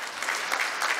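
Steady, dense applause from a conference panel audience at the FANAF 2019 insurance meeting, filling the whole moment without pause or voices.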